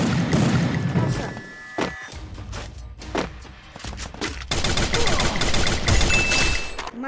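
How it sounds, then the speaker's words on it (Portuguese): Bursts of rapid gunfire crackle through a chaotic Free Fire game mix, with sharp impacts and a long sustained barrage near the end. "O tiro do Nobruzer apelão."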